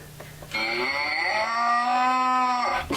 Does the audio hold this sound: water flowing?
no